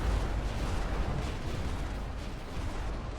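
An artillery gun battery fires in a Korean War video game scenario, making a steady, heavy low rumble of distant booms that runs through the whole stretch with no voices over it.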